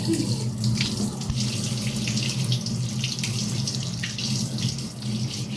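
Water pouring steadily from a kitchen tap into a sink while a small child plays at cooking, a continuous close splashing rush that holds for the whole stretch with no talk over it.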